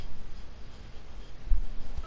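Phone dialing tones from the Watch Dogs 2 video game, a short run of faint electronic beeps over a steady low game background hum, with no talking.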